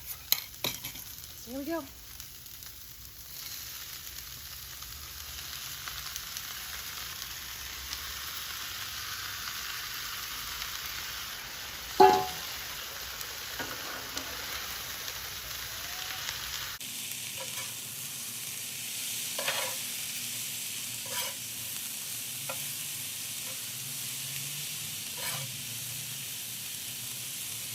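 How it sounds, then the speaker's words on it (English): Tofu stir fry in its marinade, thickened with cornstarch, sizzles on a Blackstone griddle while being stirred throughout. The hiss is steady and moderate with occasional scraping clinks, and a brief spoken remark comes early. "put my sauce on top of it, and stir it the whole time"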